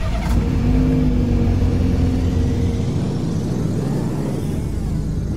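A Mini Cooper in the driving game Greenville rumbles past, its mid-pitched engine droning steadily and loudly close by, then easing slightly as it moves on, with no speech.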